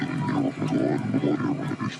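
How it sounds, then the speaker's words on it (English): Garbled, distorted phone call audio from the Five Nights at Freddy's Night 5 call, a continuous warped, growling voice-like drone lasting throughout at steady loudness. "The Night 5 phone call sounds like this."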